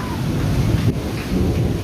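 Heavy rain pours steadily outside a window overlooking the Dhaka–Chittagong highway, a dense, loud, continuous wash with a low thunder rumble running beneath it.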